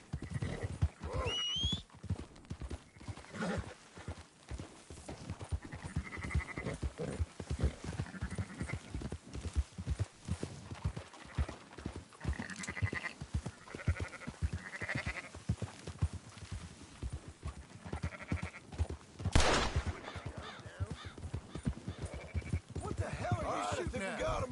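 Sheep bleating while being herded in Red Dead Redemption 2, mixed with horse hooves clip-clopping and occasional whinnies, a busy continuous jumble with people talking throughout.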